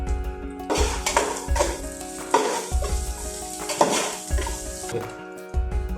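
Onions sauté with salt in a pan, a sizzling hiss punctuated by repeated stirring strokes and metal scrapes of a spoon against the pan at an irregular rhythm, close and fairly loud.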